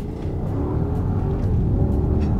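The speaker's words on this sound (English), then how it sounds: "Of course, I could mash the throttle to the floor." A Mercedes-Maybach S580 engine accelerating under full throttle, heard faintly from inside the cabin as a steady, muffled low rumble with no talk.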